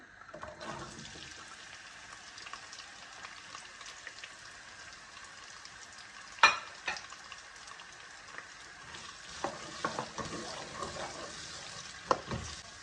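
Onions frying in hot oil with roasted achari masala for a masala bhindi, giving a steady close sizzle and crackle, with a few sharp scrapes and clinks from stirring in the pan.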